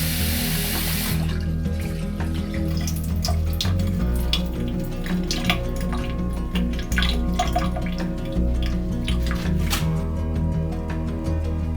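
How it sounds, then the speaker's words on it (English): Rice is rinsed under a running kitchen tap, with a steady close stream of water into a sink and irregular swishing and splashing as the grains are stirred, no talk. "Rinse the rice a few times until the water runs clear."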